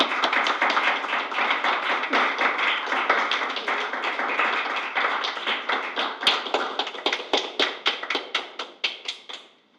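A board of education meeting audience gives a round of applause: many hands clapping together in a dense burst that thins toward the end into a few louder, distinct, evenly spaced claps from a handful of people nearby.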